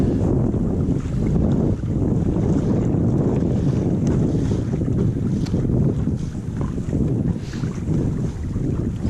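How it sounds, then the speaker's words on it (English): Strong wind roars steadily across the microphone on a small mini bass boat out on choppy water, a loud, continuous buffeting rush with water and hull noise underneath, no voices. "The wind is high."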